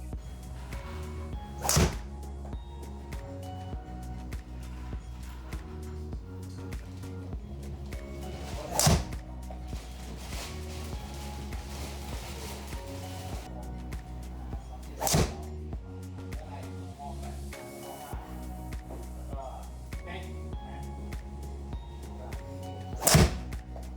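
A Callaway Mavrik driver strikes golf balls, four sharp, loud impacts spaced several seconds apart, heard over steady background music.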